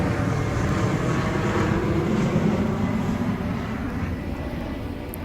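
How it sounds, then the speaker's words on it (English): An airplane passes overhead above a summer lawn, a steady broad roar that stays fairly loud throughout and eases slightly toward the end. "And of course, I have a plane coming over."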